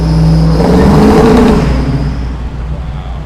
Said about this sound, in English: He's gonna rev it.